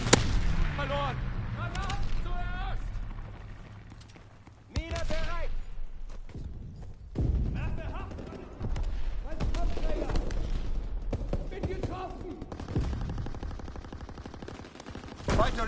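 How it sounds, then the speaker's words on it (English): Rapid machine-gun fire from an aircraft strafing run rattles through a WWII video game battle, with bursts of shots, booms and a game voice calling out over the combat. "Strafing run inbound."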